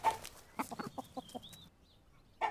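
Clucking chicken in the video game Pecking Order, a run of short clucks and squawks in a quick burst, then a lone cluck after a pause, fairly quiet with a thin electronic whine behind.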